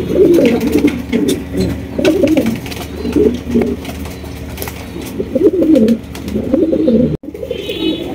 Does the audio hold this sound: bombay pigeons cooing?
yes